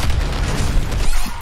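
Rocket explosions from the first-person shooter Doom Eternal during a boss fight, a dense run of heavy low booms and bursts that stays loud and continuous throughout.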